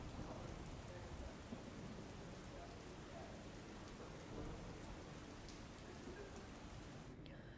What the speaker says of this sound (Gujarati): વડોદરામાં ધોધમાર વરસાદ ખાબક્યો છે